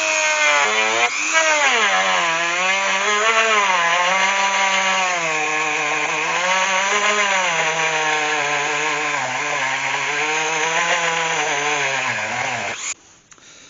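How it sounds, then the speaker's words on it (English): A Dremel rotary tool runs steadily for about twelve seconds, opening carved lines in an oak bowl turned from a wind-blown tree, a loud close whine with wavering pitch under load that cuts off near the end. "Now what I intend to do is just use my Dremel just to open them up."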